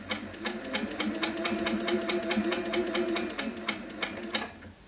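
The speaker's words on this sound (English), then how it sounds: "I'm just going to sew a few stitches in one place just to secure those threads" An HQ Sweet Sixteen quilting sewing machine runs steadily in place, its needle tapping out a fast, even train of stitches for about four seconds at close range before stopping. No one speaks.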